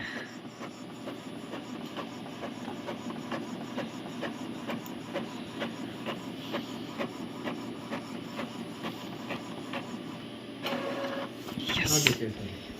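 An Epson EcoTank L3212 colour inkjet printer runs a print job, giving a steady mechanical whir with regular ticking carriage passes and a louder clatter as the page feeds out near the end.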